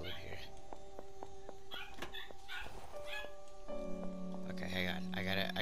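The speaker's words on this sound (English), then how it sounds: "The dogs are barking." Dogs in the Dead Island video game give a rapid run of short barks and yips over a steady game drone, with louder bursts toward the end, partly mixed with other noise.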